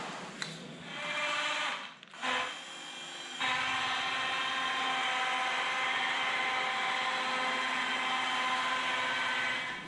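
A home-built aircraft tug runs along, its motor and pulley drive making a loud, steady mechanical whine and hum that starts and stops before settling into a continuous drone, close by with no voices.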